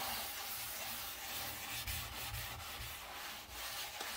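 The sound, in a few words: scrubbing a sanitary surface with a wet sponge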